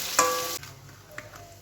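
Onions sizzle loudly in oil in a pan for a brief moment, then the sound drops to a softer frying hiss as they are stirred, with a faint clink of the utensil.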